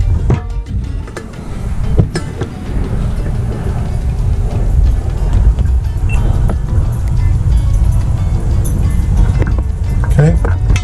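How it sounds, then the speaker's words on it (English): A small 12-volt micro electric pump siphons gasoline from a boat, its steady whirring hum running throughout, close and loud, with clicks and knocks scattered on top. "this is the flow of that pump"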